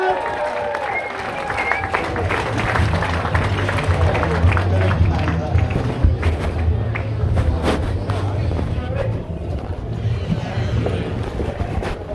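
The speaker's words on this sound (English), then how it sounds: "please a massive round of applause for Liam Pickford!" Sustained applause from a crowd, a dense steady wash of clapping with cheering voices and a low rumble underneath, continuing throughout.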